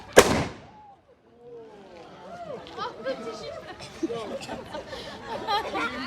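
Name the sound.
double band musket being fired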